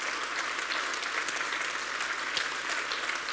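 Sustained audience applause at a regional business awards ceremony, a dense, even wash of many hands clapping throughout with no pauses.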